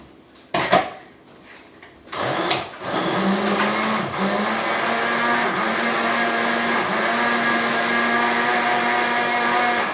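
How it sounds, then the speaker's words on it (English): A kitchen blender whirs steadily through food for most of the stretch, loud and continuous, after a few sharp clatters and knocks as the jar is set in place. "I'm going to blend it up over here so that it doesn't kill your ears"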